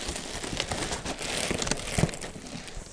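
A plastic bag wrapped around a Canon G7020 MegaTank inkjet printer crinkles and rustles continuously as it is handled during unpacking, close and moderately loud with irregular crackling bursts.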